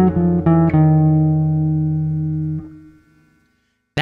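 A short jazz altered dominant guitar line: a few quick plucked notes, then one long sustained note that rings close and clear for about two seconds before fading into silence.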